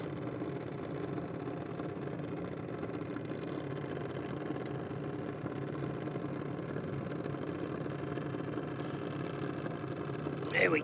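A race car engine idles steadily before launch at an NSW Championship Series round, a low rumbling drone that holds constant and close, with a commentator's voice audible over it.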